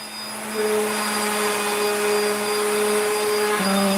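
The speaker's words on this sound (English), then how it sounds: "I'm sure you can hear my wife out there running the sander." An electric sander runs in another room, a steady droning whine with a sustained tone that shifts pitch slightly partway through, moderately loud and continuous, with no talk.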